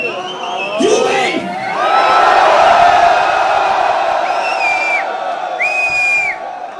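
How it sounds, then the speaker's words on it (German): An arena concert crowd cheers and whoops loudly, a dense roar of many voices with shrill whistles and shouts rising over it, swelling in the middle and staying strong to the end. "Jubel!"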